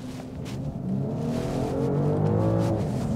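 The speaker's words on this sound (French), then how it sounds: "je vais accélérer rien que pour vous" A BMW X5 50e hybrid SUV engine revs up steadily, its pitch climbing as it accelerates, with a steady whooshing rumble underneath and no talking.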